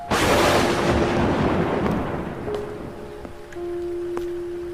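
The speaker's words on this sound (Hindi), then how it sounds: "बारिश अब ज्यादा बढ़ गई थी और बिजली भी बहुत कड़क रही थी" Heavy rain pours down loudly with a crack of thunder at the start, then the downpour steadily softens while a few sharp tonal accents ring through, no voices present.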